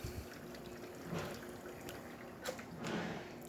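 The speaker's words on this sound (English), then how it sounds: "nice steady flow coming out from the group head." Hot water runs in a steady stream from the E61 group head of a Quick Mill espresso machine, a soft continuous pouring and trickling close by with a faint background hum, no talking.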